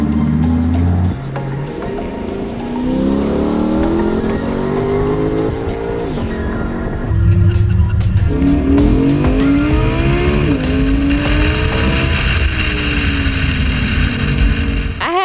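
Several cars driving hard at a Car of the Year judging event, engines revving up and down in overlapping sweeping pitches with tires squealing through turns, loud and continuous throughout.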